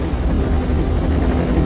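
A helicopter flies over a massive lake, its engine and rotor noise forming a steady, loud, continuous rumble throughout with no pauses.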